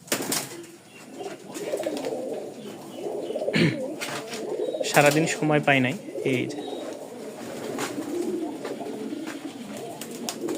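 Black Gorra pigeons coo steadily among a crowd of birds, soft throaty calls running under a man's nearby speech, with a brief burst of other chirping in the middle.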